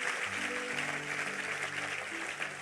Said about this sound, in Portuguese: Pode aplaudir ele aí, irmão